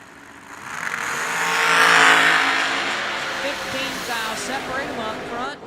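A hot rod roars down a drag strip at a vintage motorsports event, its engine rising to a loud peak around two seconds before easing off as it pulls away, with a steady engine drone throughout.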